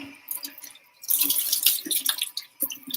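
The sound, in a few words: kitchen sink tap running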